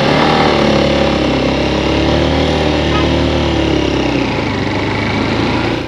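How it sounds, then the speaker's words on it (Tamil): A loud, heavily loaded motorcycle engine drones continuously up close, straining uphill at steady revs near Sonamarg and easing off slightly near the end. "இந்த பைக் ஏத்தத்துல ஏத்த முடியாம திணறுது"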